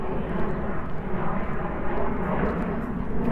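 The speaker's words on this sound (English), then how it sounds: "Can't tell if it's Air Canada or WestJet, but a commercial jet, that one." A commercial jet airliner flies overhead above a city park, a loud, steady broadband roar that fills the whole moment without voices.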